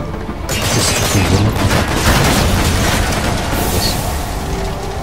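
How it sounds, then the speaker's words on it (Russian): Car blowing up in the video game Metal Gear Solid V, a dense, loud roar of blasts and crackling debris that starts abruptly and rumbles continuously for several seconds. "Тачку взорвал, блин."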